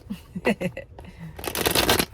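Crisp fluttering riffles of cards being shuffled, a few short bursts followed by a longer, louder cascade, close up with no talking.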